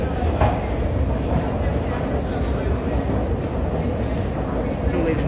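Inside a subway car during a ride, a steady, loud rumble and rattle of the moving train fills the whole clip without letting up.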